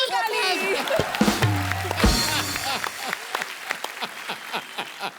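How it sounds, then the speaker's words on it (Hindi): Studio audience applause on The Kapil Sharma Show, a Hindi comedy show: a burst of clapping that rises partway through and carries on under speech and music. "ठोको ताली।"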